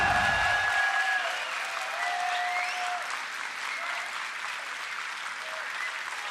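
An esports crowd at a Worlds group stage match applauds and cheers, a dense sustained wash of clapping from a large audience that starts loud and slowly eases. Faint tonal sounds sit over it.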